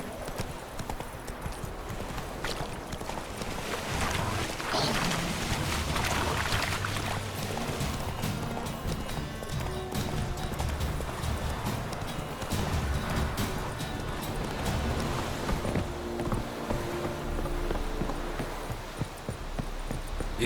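Roach, a horse in the video game The Witcher 3, gallops with a steady rapid clip-clop of hooves, loud and continuous for the whole stretch, over a layer of background game sound.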